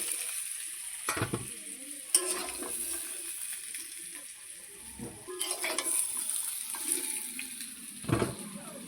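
Potatoes fry in hot oil in a wok, giving a steady faint sizzle broken by a few louder clatters and scrapes, with no one talking.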